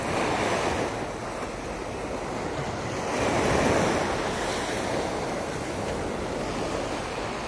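Surf rolling ashore on Waikiki Beach at night, a continuous close wash of breaking waves with a swell in loudness midway, roughened by wind buffeting the microphone.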